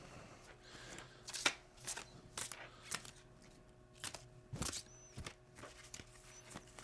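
Slippery tarot cards shuffled slowly and deliberately, giving separate soft riffling and slapping bursts at irregular intervals, faint and close, with no talk.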